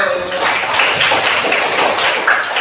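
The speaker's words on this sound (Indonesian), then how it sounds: "Ya, tepuk tangan dulu" A Grade 4 class of children clapping their hands in a classroom, a dense, fairly loud patter of many claps running continuously throughout.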